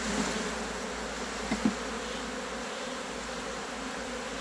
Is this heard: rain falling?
no